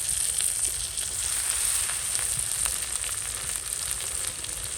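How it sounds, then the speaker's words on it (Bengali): A blended paste of flour and garlic fries in hot oil, giving a loud, continuous sizzle with a bright crackling hiss and faint stirring taps, steady from start to finish. "একটু ভেজে নেবো"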